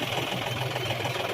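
A tractor engine idles in a cotton field, a close, steady, rough mechanical drone with no change in pace over a brief moment.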